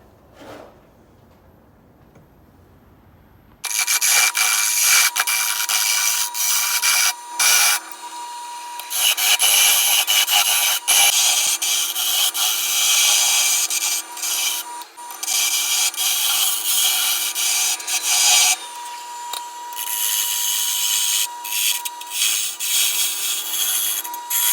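A wooden hammer handle spinning on a wood lathe gives off a steady, loud rasping hiss of tool or abrasive against the wood. It starts after a few quiet seconds and runs on with brief breaks and no talk.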